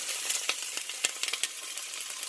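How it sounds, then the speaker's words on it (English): Crabs sear in a hot pan for a Jamaican jerk crab dish, giving a close, steady sizzle dotted with sharp pops and crackles. "I am just searing the bottom of my crabs."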